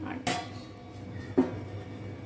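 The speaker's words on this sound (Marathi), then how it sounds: "ह्याच्यावरती मी झाकण ठेवत आहे." A metal lid set onto a pot of steaming herb fritters, two close clanks about a second apart, the second louder, over a faint background hum.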